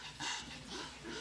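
Small frightened dog Vicky breathing hard and agitated after fireworks, quick soft panting and whimpery breaths close to the microphone, faint and brief.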